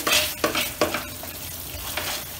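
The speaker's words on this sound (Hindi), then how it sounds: "और लगातार इस मसाले को भूनते जाएंगे जब तक कि ये घी ना छोड़ दे" Masala roasting in ghee for a fasting-day potato curry sizzles steadily while a spoon scrapes and stirs it in the pan, giving repeated rhythmic swishes over the frying hiss.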